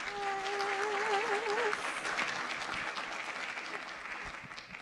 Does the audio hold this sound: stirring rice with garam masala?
no